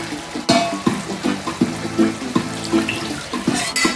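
Liquid being poured into a pan while cooking pork shoulder, a running splash with sizzling underneath and repeated soft knocks at a steady rhythm, with no talking.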